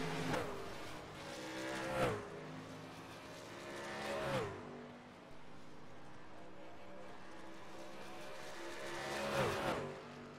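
Race cars at Darlington lap past in three separate surges, each engine whine swelling and dropping as it passes, with steady engine drone between and a commentator's voice faintly underneath.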